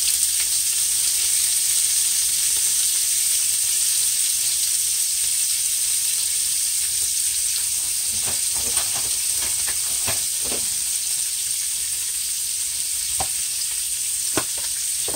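Chopped shrimp seasoned with Old Bay sautés in a pan, giving a loud, constant bright sizzle and hiss, with a few brief clinks and stirring sounds near the end.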